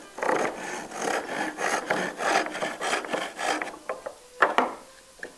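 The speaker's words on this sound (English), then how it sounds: "Now, I'm going to cut the haunch, and then I'll cut the cheeks off." A hand saw cuts the haunch of a wooden tenon in a run of about eight rhythmic, close back-and-forth strokes. The strokes grow choppier and more uneven near the end, and no one speaks.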